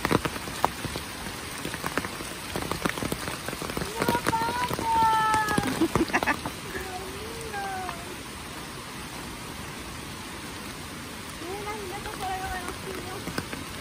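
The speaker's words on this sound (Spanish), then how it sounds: "Pero ahora sí está lloviendo." Steady rain patters on a surface, a constant hiss with scattered drops, while a cat meows a few times in between.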